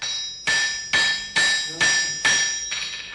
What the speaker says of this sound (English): The traditional strength and sense of timing of the blacksmith can be readily understood from his use of the sledgehammer.